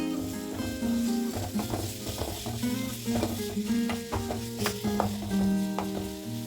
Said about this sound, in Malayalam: ഇനി ഇതിലേക്ക് ചേർക്കാൻ പോകുന്നത് ഒരു സവാള അരിഞ്ഞതാണ്. അതും നമുക്കൊന്ന് വഴറ്റിയെടുക്കാം.